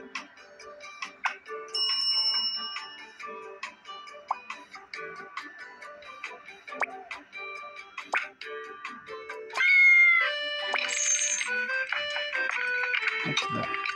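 Cat meowing in a cute cooking video game, short game-style meows among ticking clock sounds and chiming music effects, with a person talking over them.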